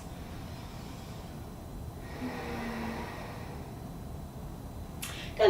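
A slow, deep breath flows in and out during a yoga core flow session, soft and close, rising gently in the middle, with a brief rustle at the end and no speech.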